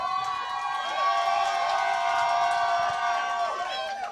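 Drag show audience in a bar cheering and calling out, a continuous crowd roar with whoops and voices layered over one another, fairly even in level throughout.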